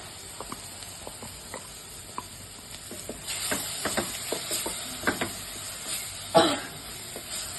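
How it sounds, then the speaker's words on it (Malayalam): Chili powder and freshly ground masala sizzle and hiss in a hot pan, with soft stirring scrapes and intermittent crackles that grow livelier midway, close and clear with no talk. "മുളകുപൊടി, നമ്മൾ അരച്ച് വെച്ച മസാല ഇടും."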